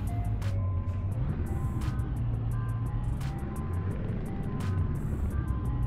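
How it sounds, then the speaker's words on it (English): A steady low Scania truck engine in Euro Truck Simulator 2 drones continuously, with faint high clicking ticks repeating across the top and a constant rumble throughout. "That sound, the truck."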